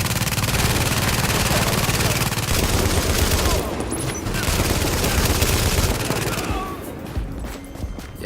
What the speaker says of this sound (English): Let's go ahead and get that turret up and ready.